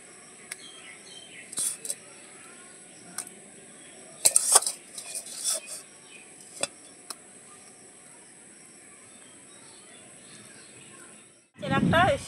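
A small glass jar handled in a home kitchen while making raw mango pickle, sharp clinks and taps scattered irregularly against quiet background, with birds chirping faintly and a louder clatter at the end.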